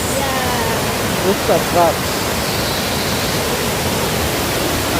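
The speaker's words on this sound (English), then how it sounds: "Look at that waterfall." A waterfall in a Kenyan village roars as a steady, broad rush of falling water close by, with a person briefly speaking over the constant wash.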